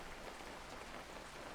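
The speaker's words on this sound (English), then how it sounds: "Rain fell all around" Steady rain falling all around outside a vehicle with a damaged windshield, a dense, even hiss of drops that holds constant throughout with no voices.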